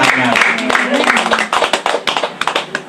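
A church congregation claps during a sermon, with a string of sharp, scattered hand claps building in the second half under a steady murmur of voices and a speaking voice.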